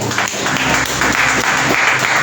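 A church congregation acclaiming the Lord with applause, sustained loud clapping mixed with crowd voices and cheering, continuous and close.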